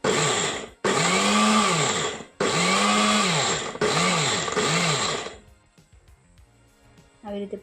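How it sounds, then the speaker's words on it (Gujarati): A kitchen mixer grinder grinding a roasted gram flour ladoo mixture, with three or four loud whirring bursts whose motor pitch dips and recovers under load, separated by short pauses, then quiet clatter as it stops. "હવે મિક્સરમાં આપણે પીસી લઈએ।"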